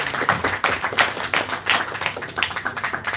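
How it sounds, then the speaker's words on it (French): An audience at a writers' forum at the Maison Perchée claps steadily throughout, a moderate, close burst of applause with uneven individual hand claps and no voices. "qu'on peut réapplaudir en applaudissant tout le monde"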